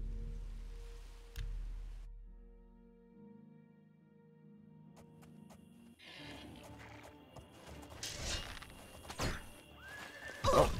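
A horse whinnies near the end amid game sound effects and hoofbeats in The Elder Scrolls IV: Oblivion, following a stretch of low droning tones.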